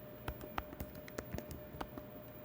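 Fast, irregular key clicks from typing on a computer keyboard while adjusting Windows 11 settings, a run of crisp close taps with short pauses, no voices.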